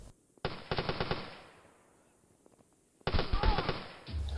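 Gunfire from Mini Royale, an online battle royale shooter: two loud rapid machine-gun bursts, the first sharp and fading into a quieter lull, the second starting abruptly and running dense until the end.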